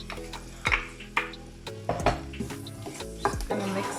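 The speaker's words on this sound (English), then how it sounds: "Just going to add our onion and chili." Onion and chili hit a hot pan and are stirred, with sharp metallic scrapes and clanks from a spoon against the pan every half second or so over a soft sizzle, close and clear, with no voices.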